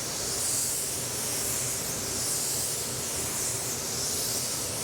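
An Apollo Precision 6 Pro HVLP spray gun lays base coat paint onto a car bumper, producing a close, loud, steady airy hiss that runs unbroken for the whole stretch.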